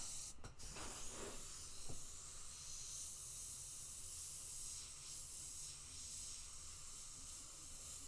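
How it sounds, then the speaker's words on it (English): An airbrush sprays paint onto a neon nuclear Godzilla artwork, giving a soft, steady hiss that runs for several seconds at low volume, with a couple of brief taps near the start. "window airbrushing can be fun"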